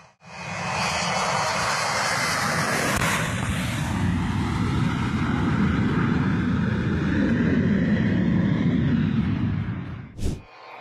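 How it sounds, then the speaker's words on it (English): Cargo plane taking off from Puerto Carreño, Colombia: a loud, sustained roar of aircraft engines that fills the whole stretch, building and holding steady, then cutting off abruptly with a sharp burst near the end. "A cargo plane crashed shortly after takeoff from the southern Colombian city of Puerto Carreño"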